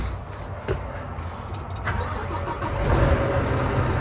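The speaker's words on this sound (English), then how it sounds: "Now let's go ahead and start the truck." A truck engine starting after a starter replacement, the starter cranking briefly before the engine catches and settles into a loud, close, steady idle.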